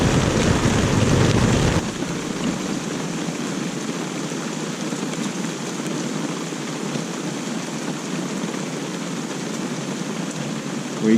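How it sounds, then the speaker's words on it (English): Beside the Livingstone River, rain and small hailstones drum on a rooftop tent awning in a dense, steady patter, with wind buffeting the microphone through the early seconds. "We got hail, little chunks of hail."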